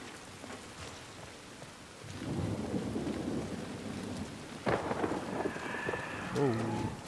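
Steady rain patters with a low rumble of thunder rolling in, moderately close, in the video game The Last of Us Part 1, with a voice briefly speaking over the storm.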